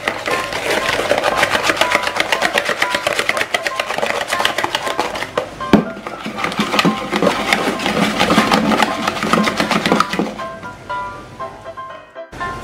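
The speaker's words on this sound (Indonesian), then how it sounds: "ini udah aku kocok sampai putih, kental, dan berjejak" Batter being whisked by hand until white and thick, a loud fast rhythmic clatter of whisk against bowl running steadily and fading out near the end.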